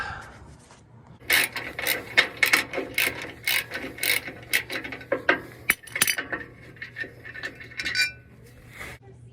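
A ratchet loosens the skid plate bolts under a Toyota Tacoma during a CBI full skid plate install, with close, fast clicking bursts separated by short pauses and metallic knocks.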